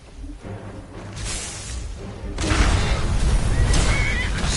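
A horse in the Skyrim video game lets out loud, drawn-out neighs over rumbling game noise that grows heavier partway through.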